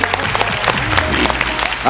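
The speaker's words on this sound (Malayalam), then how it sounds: "നല്ല കൈയടി" Clapping from a comedy show audience, mixed with voices and background music, fairly loud and continuous throughout.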